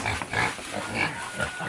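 A pig on a farm grunts and oinks in several short bursts at close range, with no other sounds competing.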